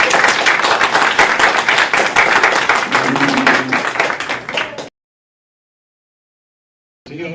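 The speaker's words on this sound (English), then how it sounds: "a great round of applause for our candidates tonight" An audience at an election debate on seniors' issues applauds the candidates, dense close clapping for about five seconds that cuts off abruptly into silence.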